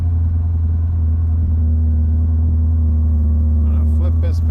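A 1934 Ford 3-window coupe street rod drives steadily with a loud, continuous low engine rumble and road drone, close and unbroken throughout, with a brief higher rattle near the end.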